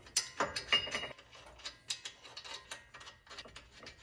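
Lug nuts threaded by hand onto the wheel studs of a lifted Subaru SH Forester, a run of small metallic clicks and ratcheting ticks at an uneven pace, close and fairly quiet, with no talking.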